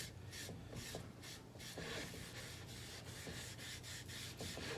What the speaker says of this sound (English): So just start with the rag here. Just wipe it on.